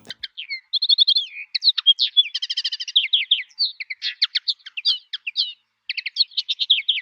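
A small songbird, a linnet, sings a lively run of rapid twittering phrases, trills and buzzy notes with brief pauses, close and clear with no other sound.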